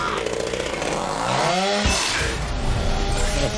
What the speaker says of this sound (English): Oh, a chainsaw.